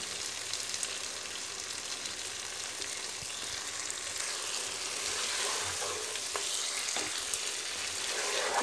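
Mutton frying in a pan for kali mirch mutton, a soft, steady sizzle and bubbling close by with faint stirring, no voices.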